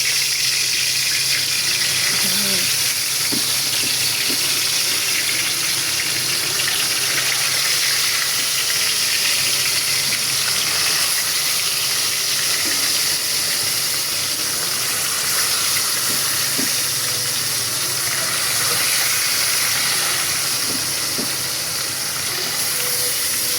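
Oil frying hard in a hot pot, a steady loud hiss and sizzle with small spattering pops running throughout, no voices.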